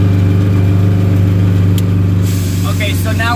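A loaded dump truck's engine drones steadily with a deep, loud hum as it drives toward a job site, with a brief hiss partway through and rattling noises toward the end.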